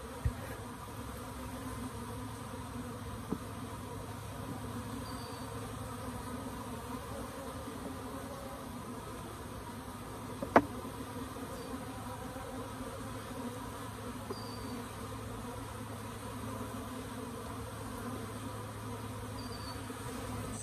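Honey bees buzzing around a nucleus hive box outdoors, a steady low swarm drone with a few louder bees passing close, continuous and fairly faint.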